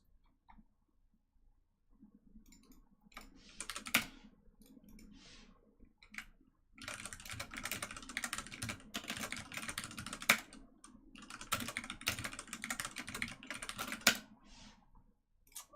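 Computer keyboard typing during a coding session, quiet close clicks in short bursts at first, then a faster, denser run of keystrokes with a few louder taps, no talking.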